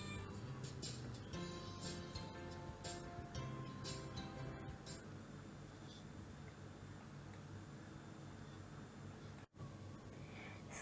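Cartoon cat meows in an animated home scene with a cat owner, several short mewing calls over soft background music, fairly quiet throughout.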